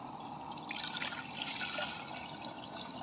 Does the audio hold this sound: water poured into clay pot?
yes